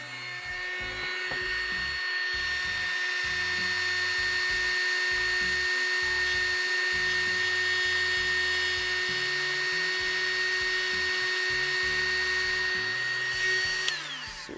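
A power sander running at a workbench, giving a steady, loud, continuous motor whine with a rough buzzing texture underneath that holds for the whole stretch before winding down at the end.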